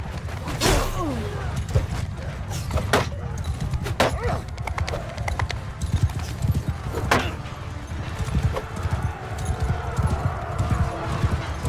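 Horse hooves thunder in a Mount & Blade 2: Bannerlord video game battle, a dense, continuous clatter of galloping cavalry with sharp individual hoofbeats and clanks standing out over the din throughout.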